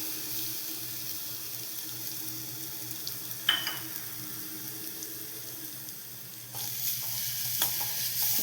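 Grated carrots with cumin and garlic are sautéed in ghee in a pan, a faint low sizzle broken by a few sharp scraping clicks of a spoon and a brief clatter near the end.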